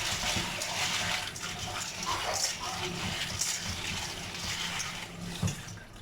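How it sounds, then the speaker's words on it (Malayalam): Water rushes steadily from a tap as uncooked macaroni pasta is rinsed for a child's milk pasta, a continuous splashing gush with small clatters near the end, close up and without speech. "ഒന്നും കൂടെ കഴുകുക, നല്ല വെള്ളത്തിൽ ഒന്നുകൂടെ കഴുകുക."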